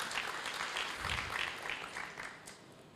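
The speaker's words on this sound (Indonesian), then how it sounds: "Berikan tepuk tangan yang meriah." A church congregation gives warm applause during a sermon by Pastor Gilbert Lumoindong, a soft but steady wash of many hands clapping that lingers, then fades a little toward the end.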